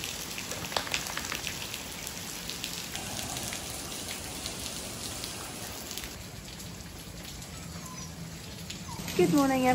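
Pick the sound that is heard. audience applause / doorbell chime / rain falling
rain falling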